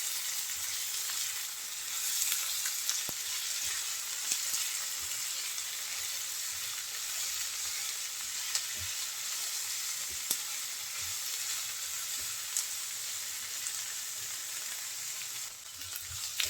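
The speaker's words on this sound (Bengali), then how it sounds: "পেঁয়াজ দেওয়ার পর আমি নেড়ে চেড়ে এক মিনিটের মতো ভেজে নিয়েছি" Chopped onions and green chillies fry in a pan, a dense, steady hiss of oil that runs throughout, with faint occasional clicks of stirring beneath it.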